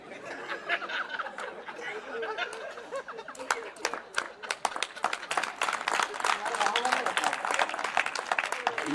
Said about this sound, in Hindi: ये ताली पढ़े लिखों ने बजाई, बेडरूम वालों ने बजाई।